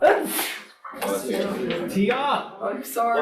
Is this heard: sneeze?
yes